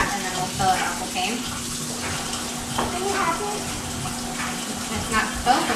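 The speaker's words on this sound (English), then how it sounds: "So I'm going to use really hot water from the sink." Really hot water runs from a sink tap in a home kitchen, a steady close-up splashing stream, while children's voices and light talk come and go over it.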